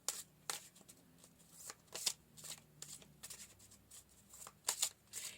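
Tarot cards being shuffled up close, with a string of quiet riffling bursts and soft slaps at an irregular rhythm and no voices.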